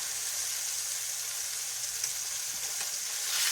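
Beef pot roast sears in fat in the bottom of a pan with a continuous close sizzle and steady crackle, and a couple of faint scrapes late on, with no voices.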